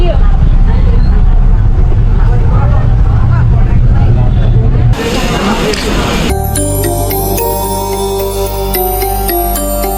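Inside a bus riding from Tuni to Annavaram, a loud engine rumble and road noise run steadily under chatter from passengers, shifting abruptly partway through to a brighter, tonal mix of sound.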